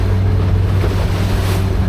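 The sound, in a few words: jet ski idling along through water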